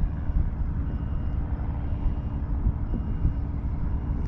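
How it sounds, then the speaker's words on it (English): Small airplane engine running as the plane flies laps of the airport pattern, a steady low droning rumble with some wind noise, continuous and without speech. "Airplane sounded good."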